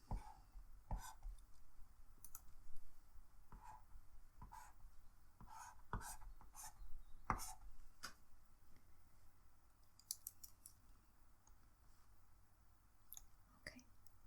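Handwriting notes with a pen on a surface: quiet, irregular scratches and taps, close and faint, with no talk.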